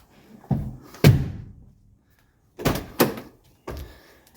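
The driver's door of a 1982 Mercedes 300D is opened and shut twice, each cycle a latch click followed by a solid, close thud, with quiet pauses between and a final lighter clunk.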